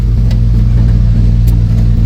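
Steady, loud low rumble of a vehicle's engine and tyres rolling along a road, a constant drone with no change in pace and no voices.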